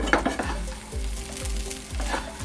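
Onions frying in hot oil in a pan, a dense close sizzle broken by repeated scraping stirs at an uneven rhythm.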